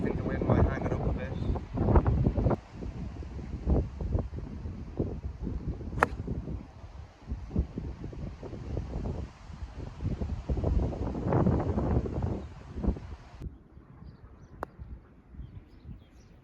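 Strong wind sweeps across a links golf course at Arklow in Ireland, a steady loud buffeting roar with gusts that swell and ease, broken by faint rustling and a few sharp ticks.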